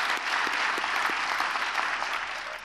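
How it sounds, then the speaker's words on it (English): Dense, steady applause from a large audience at the Takreem America Awards Night in Los Angeles, a continuous wash of many hands clapping together for the whole stretch. "we really need to give a round of applause for that trailblazing"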